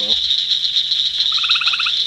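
A frog calls at night amid a steady, shrill insect-like trill that fills the background, with a brief run of rapid pulsed chirps near the end; close and fairly loud, no speech.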